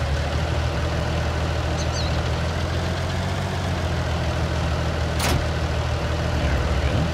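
A Fendt 724 tractor idling in the Farming Simulator 19 game, a steady low diesel rumble with a constant hum, loud and continuous, with a faint brief click partway through.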